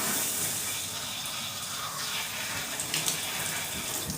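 Water is poured over skin, making a soft, steady splashing hiss that runs continuously at low level.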